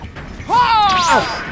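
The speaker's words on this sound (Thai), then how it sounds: "มีคนแอบมาปั่นนะเนี่ยเสียงเครื่องดังอยู่" A generator being repaired in the video game Dead by Daylight gives a mechanical whirring with rising and falling tonal sweeps that swells up after a quiet start and holds steady, loud and close.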